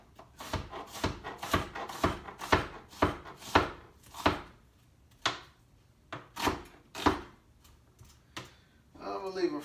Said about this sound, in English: I'm going to go ahead and cut our onion up as well